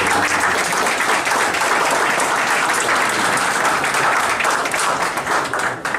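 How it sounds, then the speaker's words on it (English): Loud, sustained applause from a boxing event crowd, dense and even throughout six seconds, with no voices rising above the clapping. "I want to please give a big round of applause for Israel Vasquez, who's with us today."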